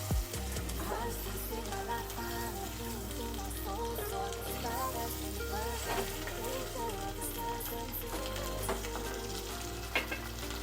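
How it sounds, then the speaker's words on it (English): Food sizzles steadily in hot oil in a pan, a continuous close crackling frying sound with occasional stirring, no voices over it. "And then I'll just leave that to fry for about 5 minutes before I go in with my seasonings."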